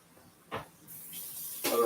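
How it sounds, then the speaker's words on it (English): A kitchen tap runs into the sink as hands are washed after chopping peppers: a faint, steady hiss of water that starts partway through, with a couple of soft knocks nearby. "Now let's go wash my hands."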